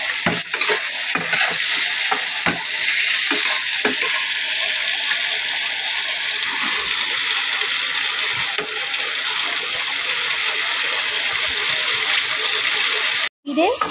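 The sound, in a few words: frying food in a pan for hilsa curry with eggplant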